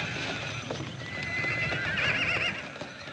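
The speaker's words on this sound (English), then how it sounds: "Nice bunch of Mustangs there." A herd of Mustang horses neighing and whinnying over steady clip-clop hoofbeats, a busy, continuous din at moderate distance with no talk.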